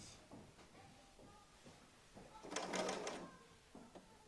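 An overlocker serger sewing machine stitching jersey fabric, a brief whirring run of about a second in the middle, faint and surrounded by quiet handling clicks and shuffles.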